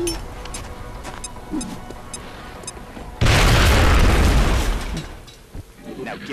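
Grenade blast in the video game XCOM, a loud sudden boom that erupts midway and rumbles for about two seconds, with speech heard around it.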